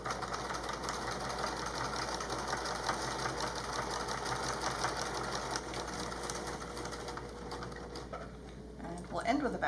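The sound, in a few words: sewing machine stitching a fabric mask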